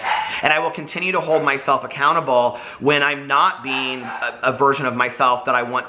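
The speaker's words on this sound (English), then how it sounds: "I apologize for the dogs barking in the background," Dogs bark and yip in the background of a home while a person talks steadily in the foreground, their barks partly buried under the voice.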